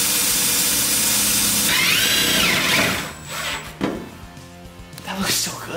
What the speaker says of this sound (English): I'll just drill the holes bigger than they need to be.